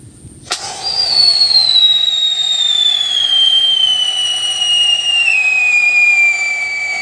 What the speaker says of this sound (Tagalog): Gumana din Solid ng sipol.